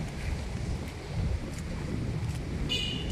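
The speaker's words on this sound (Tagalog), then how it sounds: "Lakas ng hangin." Strong typhoon wind during Typhoon Paeng in Parañaque, a steady loud rushing roar with gusty low rumble buffeting the microphone throughout, no voices.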